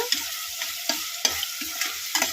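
Tomato gravy frying in a pan, a close, steady sizzle with rhythmic scrapes of a spatula stirring every half second or so, no speech.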